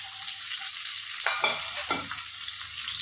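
Onion and tomato sauté in hot oil in a pan with a steady, close sizzle, broken by a couple of brief louder bursts of crackle when the pan is stirred.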